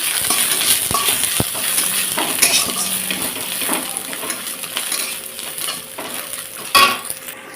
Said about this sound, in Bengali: তো এটা আমি সুন্দর করে লাল লাল করে ভেজে নিয়েছি